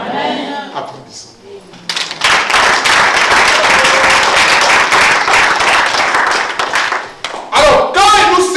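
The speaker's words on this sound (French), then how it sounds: "Applaudissons." Congregation applause in a church service, loud and dense clapping breaking out after a brief spoken line and continuing for several seconds, with voices returning at the end.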